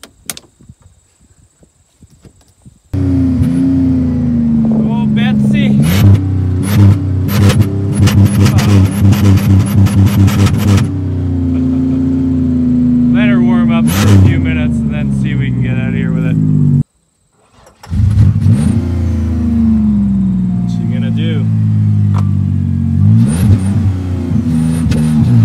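A car running on yogurt drink in place of engine oil cranks, then idles with a rough, labouring hum and repeated revs that briefly cut out before restarting, while people talk over it.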